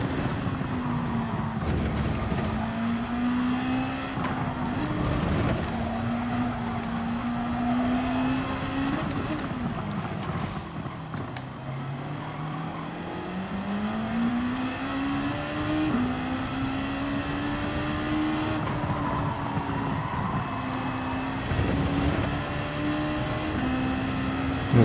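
A race car engine in Gran Turismo 7 during an Alfa race drones steadily throughout, its pitch rising and falling with gear changes and acceleration, continuous and moderately loud with no talk over it.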